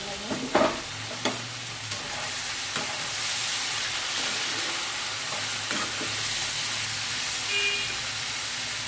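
Beans stirred and frying in a pan: a few scraping stirs and clacks at the start give way to a continuous, fairly loud sizzle that holds steady to the end.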